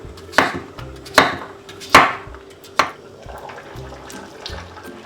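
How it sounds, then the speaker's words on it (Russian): Four sharp knife strikes cut through a single potato on a cutting board, landing at an uneven pace over a low background hum, with softer kitchen handling noises in between. "Тем временем я порежу 1 картофелину"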